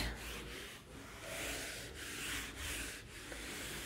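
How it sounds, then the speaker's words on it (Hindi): Construction work going on behind a house gives a steady, rasping scrape like sanding or rubbing. It repeats in rough strokes at moderate volume with no voices. "हमारे घर के पीछे कंस्ट्रक्शन का काम चल रहा है, तो उसकी वजह से आवाज़ आ रही है।"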